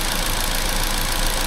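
A Ford EcoSport engine that is losing coolant idles steadily, a loud, unbroken mechanical drone with no speech over it.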